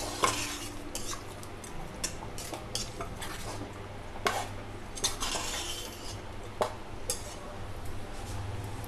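A spoon scrapes and clinks against a pot while chole masala with chopped coriander leaves is mixed, with steady repeated stirring over a low simmering background.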